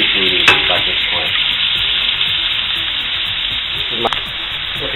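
Fish frying in a pan for fideua, a loud, continuous close-up sizzle with brief spatters and a couple of utensil clinks, no talking.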